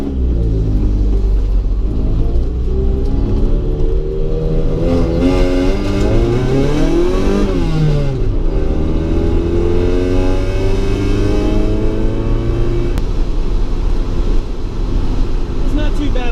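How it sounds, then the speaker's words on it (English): A 1990 Honda Civic DX on coilovers cruising the highway at about 65 mph, heard from inside as a steady engine drone and road rumble with tones that rise and fall as the car speeds up and settles. "now we're heading out to the highway to see what it does at 65 miles an hour"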